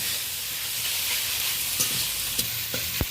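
Onion, green chilli, tomato, ginger paste and prawns sauté in a pan with a steady close sizzle and hiss, and a few light clinks of a spoon stirring toward the end.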